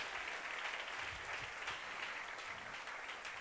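Worshippers in a church service clap together in praise and thanks to God, making a continuous, even wash of applause that carries on for a few seconds, with no talking over it.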